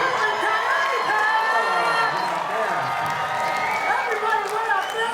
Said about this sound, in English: Oh wow, look how many people are out there.